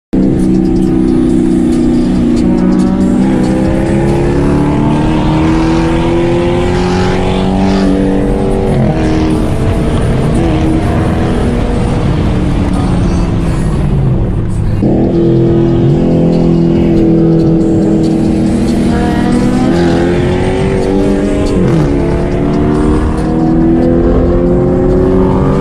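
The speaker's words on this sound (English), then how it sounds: "Next race, Dodge Charger RT, unknown mods, unknown owner, versus an 8th Gen SI Catback Exhaust Plus Untuned." A Dodge Charger RT races an untuned 8th-gen Honda Civic Si with a catback exhaust on the street, engines loud and close, droning and climbing steadily through the gears for the whole stretch, with one brief dip midway and no talking.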